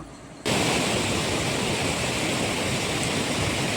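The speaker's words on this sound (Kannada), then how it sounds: "ಸೊ ಆ ಕಡೆಯಿಂದ ನೀರು ಹರ್ಕೊಂಡು ಬರುತ್ತೆ ಈ ಕಡೆಯಿಂದ ಕೆಳಗೆ ಹೋಗುತ್ತೆ ಅಷ್ಟೇ ವಾಟರ್ ಫಾಲ್ಸ್ ಅಂದರೆ" A waterfall in Munnar roars as a loud, steady wash of rushing water that starts abruptly and holds unbroken.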